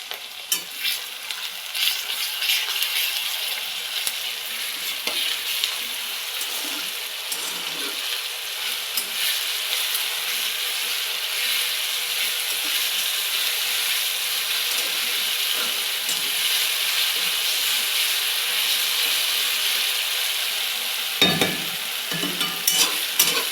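Onion and ginger-garlic paste frying and being stirred in a pan for a chicken dish, a steady loud sizzle with occasional clinks of the spoon.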